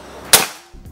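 One crisp snap of a PCP air rifle firing, loud and close, followed by a brief faint rattle as it settles.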